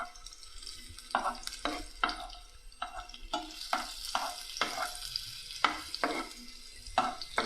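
Carrots frying in oil, a steady sizzle punctuated by a rhythmic series of sharp spatula scrapes and stirs against the pan, close and fairly loud, no voices.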